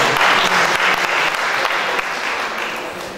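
Guests at a Papuan and Batak wedding celebration clapping on cue from the host, a loud, dense burst of applause that stays strong and then eases slightly toward the end, with no talk over it.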